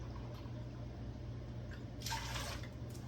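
Apple cider vinegar pours into a pot for bread and butter pickle brine, a short splashing burst of liquid over a low steady background hum.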